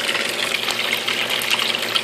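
Water rushes steadily from a Borneman surge device on a saltwater aquarium, a loud, continuous hissing gush with no pauses.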